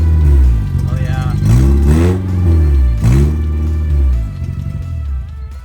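A rebuilt Honda Civic EF hatchback engine runs loud and close, revving up and down in several rising and falling sweeps over a rough idle, with voices talking over it.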